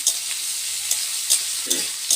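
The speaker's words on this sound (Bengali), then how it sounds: "রান্না হচ্ছে ফুলকপির তরকারি আলুটা ভাজছি" Potatoes fry in oil for a cauliflower curry, a steady close sizzle with periodic sharp scrapes of stirring, no voices.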